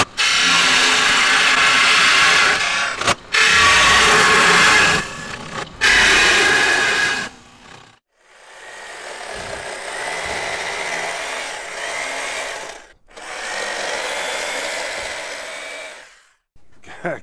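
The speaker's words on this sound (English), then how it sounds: "we're back at the drill press and we're just going to drill a couple holes" A drill press bores holes in a wooden piece for a shop cart: loud, steady whirring runs in several long bursts separated by short pauses, with no talk.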